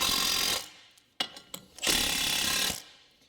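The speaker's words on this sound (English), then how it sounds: "But let me tighten up my bolts here because I know this will come off." A ratchet tightens the bolts on a car brake drum: two long loud whirring runs bracket a handful of short, sharp clicking pulls, all up close with no voices.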